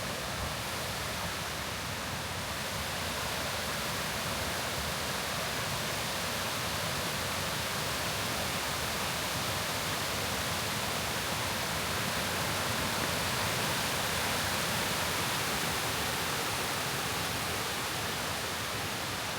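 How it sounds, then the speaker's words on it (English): Kuang Si Waterfall in Luang Prabang, Laos, roars steadily as water tumbles down successive cascades, a loud, unbroken broadband rush with no voices. "It's just one cascade after another."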